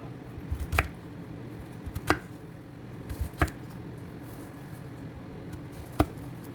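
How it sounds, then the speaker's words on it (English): Plantains being sliced on a cutting board, four sharp knife taps spaced about a second apart, close and fairly quiet against a faint background. "And I am just cutting it in a little slant fashion so it looks more delicious and tasty on the dish."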